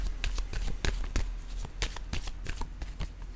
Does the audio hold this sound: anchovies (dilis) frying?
no